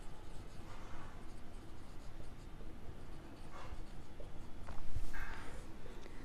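Pen scratching across paper while an accounting journal entry is handwritten, with soft intermittent strokes close by and a few sharper scribbles toward the end.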